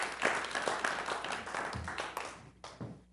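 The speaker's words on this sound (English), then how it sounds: "How about a round of applause for Councilperson Bobby Williams?" Applause at a school board meeting, a room of people clapping at moderate distance that gradually thins out and fades, with some voices mixed in.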